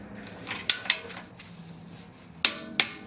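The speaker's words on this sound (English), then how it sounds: "I'm going to see if I can fit my torque wrench in here." A torque wrench clicks sharply while tightening the front brake bolts on a 1999 Acura RL. Four close metallic clicks come in two pairs with a quiet pause between them, and no one speaks.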